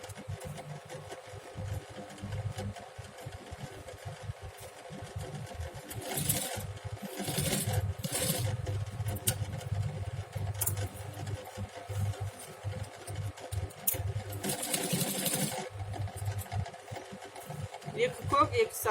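A sewing machine stitches patchwork and ribbon strips in an atelier, running as an uneven mechanical whir with faster bursts while someone talks over it throughout.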